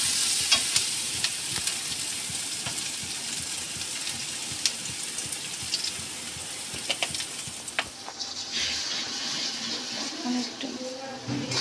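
Pasta cooks in a pan at home, with a steady close sizzle and bubbling broken by repeated scraping and stirring strokes and occasional utensil clinks. The texture shifts brighter and hissier partway through.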